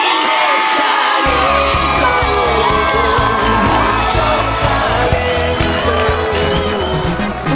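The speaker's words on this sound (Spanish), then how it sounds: "Un fuerte aplauso para" A television studio audience breaks into loud cheering, whoops and shouts after a sudden start, with a tonal musical sting running underneath the crowd noise until the end.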